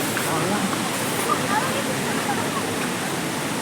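The Courtallam waterfall roars as a constant broad rush of falling water, loud and near, filling the whole stretch with unbroken hiss.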